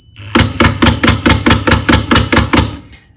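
A Milwaukee M18 Fuel Surge impact driver sinks a screw, rattling out a fast, even series of about ten loud, close hammering impacts before stopping abruptly.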